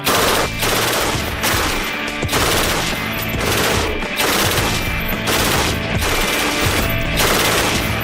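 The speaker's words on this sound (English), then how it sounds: "the Mark 48 is as close to a dream machine gun as they're gonna get." Mark 48 machine gun firing sustained loud automatic bursts, a dense, continuous roar of shots with brief rhythmic gaps, close and dominant with no talk.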